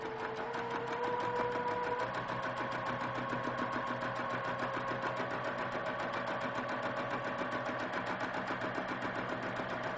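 A sewing machine runs a close straight stitch through quilt batting, a steady, fast mechanical chatter with a faint hum that holds unbroken for the whole stretch, close by and without talk.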